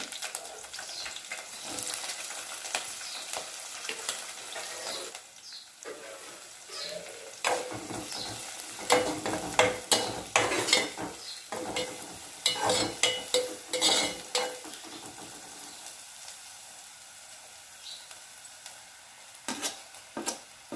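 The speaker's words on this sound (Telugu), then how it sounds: "ఆయిల్ వేడెక్కింది పచ్చిమిర్చి ఉల్లిపాయలు వేసుకొని కలుపుకోవాలి" Green chillies and onions fry in hot oil as a spoon stirs them, with irregular scraping and clattering strokes over a crackling sizzle that grows busier midway and then thins out. No one talks.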